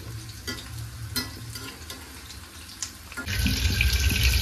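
Food frying in a pan before chicken goes in: a constant close sizzle with clinks of stirring, swelling into a louder, denser hiss near the end.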